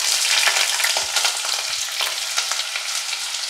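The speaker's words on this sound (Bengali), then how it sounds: "তেলটা গরম হয়েছে, এবার আমি এর মধ্যে পেঁয়াজ ছেড়ে দিই।" Onions sizzling in about two tablespoons of hot oil in a heated wok, a bright, steady crackle with small pops and stirring clatter, close and alone with no talk.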